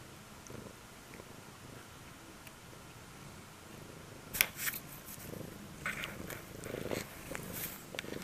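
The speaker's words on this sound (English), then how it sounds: "He's purring." A cat purrs close up in a low, steady rumble, with occasional small clicks and rustles of movement nearby.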